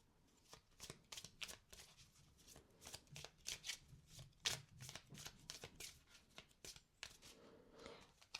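Tarot cards shuffled and drawn from a deck in quick, crisp riffling bursts, close and fairly quiet.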